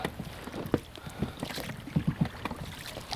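Oars working a fishing boat on open water, a series of close splashes and knocks in an uneven rhythm over faint wind and water noise.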